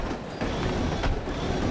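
Train ride in the No One Lives Forever game: continuous rumbling rail noise with steady wheel roar and faint rhythmic clatter, loud and close.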